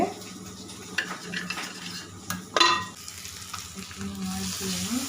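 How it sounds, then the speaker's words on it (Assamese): Spices fry in a pan with an onion and ginger garlic mixture, giving a continuous close sizzle under repeated spatula stirs and clinks against the metal pan. "মছলাখিনি ইয়াৰ লগত ফ্ৰাই হৈ যাব"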